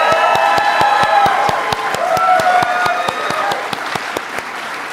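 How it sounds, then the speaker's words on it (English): An audience at the White House Tribal Nations Summit gives President Joe Biden a round of applause. Dense, loud clapping with a few whoops runs throughout under a steady rhythmic beat of music. "let's please give one more round of applause for President Joe Biden."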